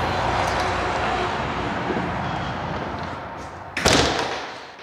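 A house door thuds shut near the end, a single loud slam cutting through a steady broadband hiss of outdoor ambience.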